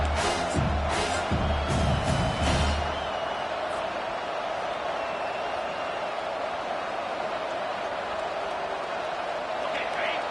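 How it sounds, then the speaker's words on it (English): A crowd roars steadily in the college football video game College Football 25, a broad sustained wash of noise with a voice talking over it at the start. "The roar of the crowd trying to fuel this defense to keep them pinned in their own end"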